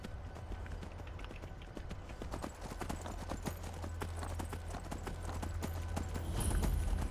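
Horse hooves clip-clop at a steady running pace in the video game Skyrim, a continuous rhythmic thudding over a low ambient hum that grows slightly louder toward the end, with no talk.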